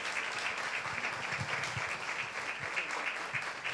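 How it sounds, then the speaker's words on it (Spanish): Audience applause at a book launch for the book Techos de zinc, a sustained even patter of many people clapping, moderately loud and unbroken. "merece todo el aplauso que ustedes le van a dar en este momento a Marcela"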